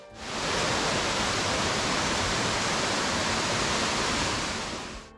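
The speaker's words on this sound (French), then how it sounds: "Un premier site remarquable est la cascade de Melli qui descend en jet d'eau verticale à gauche du chemin." The Melli cascade near Corte, Corsica, falls as a vertical jet of water beside a path. It makes a steady, dense rushing roar that stays even from start to finish, with no voices.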